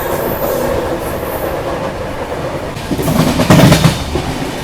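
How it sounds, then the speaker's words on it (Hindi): The Tinsukia Bangalore Express rolls along the rails through the Barak Valley in monsoon season, a steady close rumble and rattle of the carriages that swells into louder clattering toward the end. "तो ट्रेन अभी निकली है"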